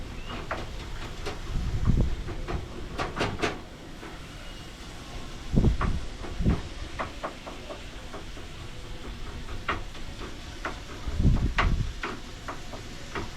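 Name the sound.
wind blowing outside a cabin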